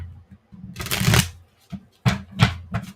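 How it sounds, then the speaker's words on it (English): A deck of playing cards being shuffled at a table during a live show, with several crisp riffling bursts separated by short pauses, close and fairly loud. "I'm shuffling the deck"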